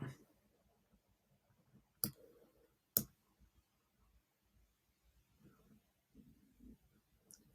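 Mouse button clicks on pins in an online map: two sharp, close clicks about a second apart, then a fainter third near the end, with soft background noise and a little muffled talk between them.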